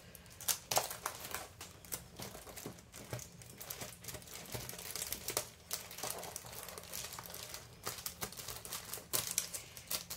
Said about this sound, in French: Et je vais tamponner, je pense, une forme d'enveloppe à l'arrière pour habiller un petit peu l'arrière de l'enveloppe